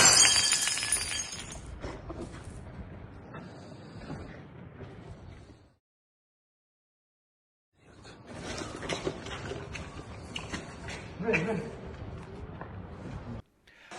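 A glass bottle smashes in a brief, bright burst during a street brawl in a city centre, followed by a stretch of near silence and then a loud, rough wash of crowd noise and scuffling.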